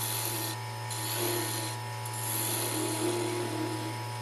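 Woodturning gouge rubbing its bevel while cutting an olive wood dipping dish held on a lathe vacuum chuck, a steady scraping rasp over the constant motor hum, with slight swells in intensity.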